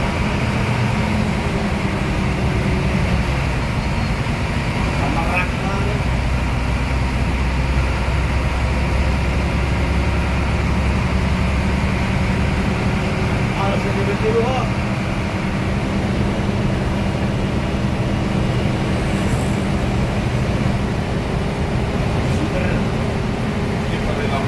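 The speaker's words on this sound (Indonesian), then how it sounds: "suara di kabin pengemudi bagian depannya nih" Inside the front driver's cabin of a Hino AK bus with a front-mounted engine and Infinity body, the engine drones steadily and loudly throughout the drive, with constant low rumble and road noise.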